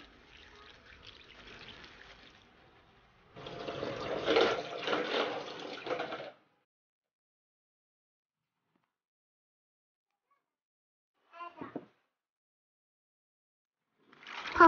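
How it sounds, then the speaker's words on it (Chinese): Soybeans being rinsed in water by hand, with two bursts of sloshing, swirling water, the second louder, followed by silence and then brief trickles and splashes near the end. "黄豆清洗干净"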